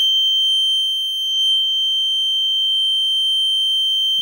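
A continuous high-pitched electronic buzzer tone from a home fire alarm panel holds steady and loud throughout, unbroken and alone with no other sounds.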